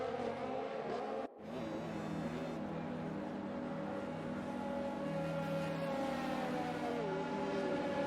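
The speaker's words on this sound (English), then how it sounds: "I love that Honda engine noise." Red Bull Honda Formula 1 car engine in a racing video game at the United States Grand Prix, a steady high-pitched whine held at constant revs, with a brief dropout early on, then continuing alone.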